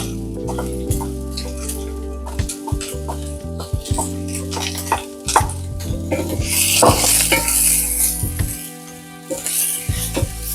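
Chopped onion sizzles in about three tablespoons of hot oil in a pot for a one-pot lamb and rice dish, with steady frying crackle and repeated stirring scrapes and clinks of a utensil against the pot, close up.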